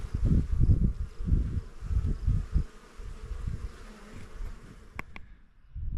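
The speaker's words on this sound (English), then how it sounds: "They're the male bees." Honeybee drones, the bigger, fatter male bees, buzz at a hive entrance in a garden homestead in early June, a close, steady low drone of wings with swelling and fading passes and no talk.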